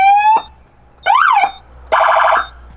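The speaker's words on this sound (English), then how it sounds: "And of course we have the siren" Police siren on an upfitted Chevy Silverado, sounding three short loud bursts of different settings, a rising tone, a warbling sweep and a rapid yelp, each separated by brief gaps.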